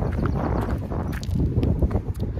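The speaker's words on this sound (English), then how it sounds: "Hey, good morning, donkeys." Donkeys near the Giant's Causeway in Northern Ireland make a loose clip-clop of hooves on hard ground, several close steps under gusting wind noise.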